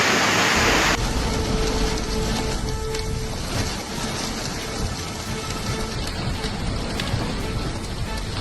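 Strong floodwater rushes with a loud, dense, continuous roar that stays close and constant throughout, with no voices.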